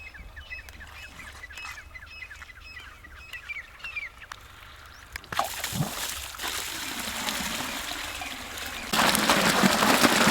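Irrigation water gushes through a field channel after a valve is opened in a village, a rushing wash that surges up midway and grows louder near the end, preceded by chirping birds.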